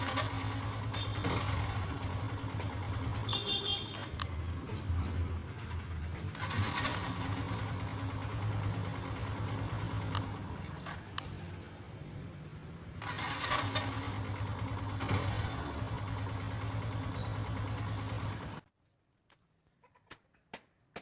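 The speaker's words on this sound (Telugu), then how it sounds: "బండి అనేది సింగిల్ స్టార్ట్కే స్టార్ట్ అయిపోతుంది" A Yamaha FZS 2018 motorcycle fires up on its self-starter and idles with a steady, throbbing low hum, briefly changing in pitch partway through, before the engine cuts out and leaves near silence.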